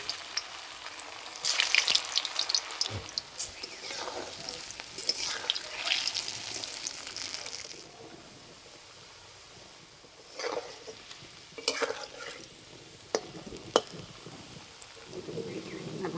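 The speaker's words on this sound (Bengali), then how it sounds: "এবার ভেজে নেব। তেল গরম হয়ে গেছে, দিয়ে দেব।" Onion pakoras (peyaji) made with jackfruit leaves fry in hot oil with a loud, crackling sizzle. It swells and fades as batches drop in, then drops to a quieter bubbling hiss broken by scraping and clinks of a spoon, with no talking.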